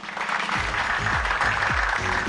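A Beijing TV dating-show studio audience applauds as the third female guest comes on, a steady wash of clapping over deep, rhythmic thumps that recur about every half second.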